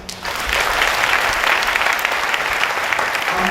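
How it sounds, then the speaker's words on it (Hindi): A church congregation claps together at a Kripa Satsang gathering, a loud, dense burst of applause that swells in after a brief pause and keeps going steadily. "हम अपने लिए भी ताली बजाएंगे"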